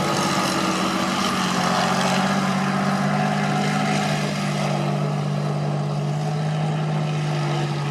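An A34 Comet tank's engine runs with a steady, loud, droning rumble that holds evenly throughout, with no voices over it.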